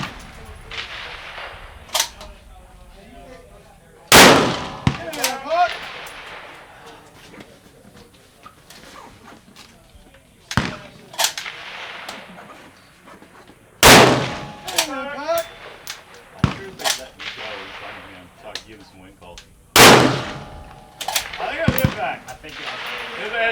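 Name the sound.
precision rifle shots at a PRS Pro Series match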